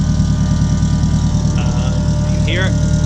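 A turbocharged K20 engine in a widebody Honda Civic EK9 racecar idles on E85 while warming up, a loud, steady low rumble with a quick whine or squeal partway through.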